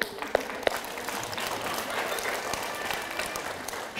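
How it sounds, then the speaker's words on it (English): Audience applause at a children's magic show in a public library, a crowd clapping steadily for a few seconds, moderately loud in a room, with a couple of sharper claps near the start and no talk. "Give her a round of applause."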